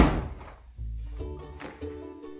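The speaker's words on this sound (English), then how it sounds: "I had trouble shutting the door as well, and so I slammed it on them." An old house's stiff door slams shut with a single heavy thunk near the start, followed by softer knocks and household clatter at close range.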